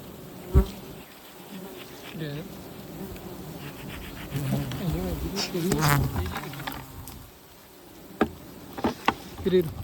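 Bees buzz steadily around a wild honeycomb hanging in a neem tree outdoors, swelling in the middle, with a few sharp knocks and voices talking nearby.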